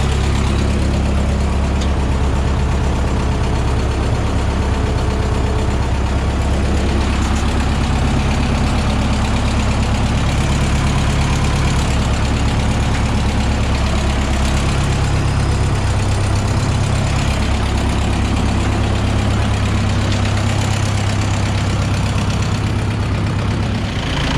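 An old tractor engine idling on a farm: a steady, loud, close mechanical rumble that drones on unbroken for the whole span, with no talk.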